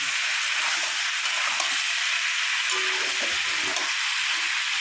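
Chicken pieces and onion fry in a pan for a Hariyali chicken dish, giving a steady, close, hissing sizzle that holds even throughout with faint stirring clatter and no talk.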